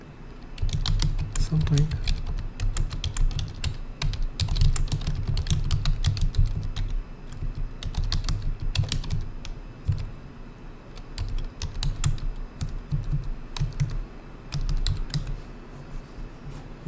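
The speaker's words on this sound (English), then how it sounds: "so that's using the keyboard and the mouse." Computer keyboard keys clack in quick irregular bursts, close and steady, with occasional pauses, while someone speaks briefly over the typing.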